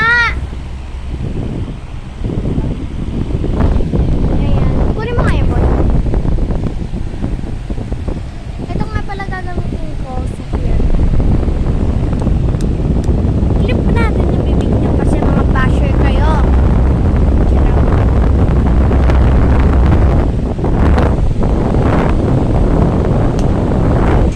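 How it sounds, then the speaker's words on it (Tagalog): A hair dryer blows hair dry with a loud, continuous rushing roar throughout, while voices talk over it at a family birthday gathering. "Papatuyo lang tayo ng hair."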